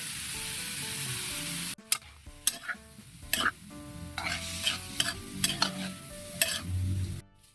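Tofu fries with garlic and onion, starting as a steady hiss and then giving way to repeated scraping, clattering stirs against the pan over a continued sizzle, heard up close.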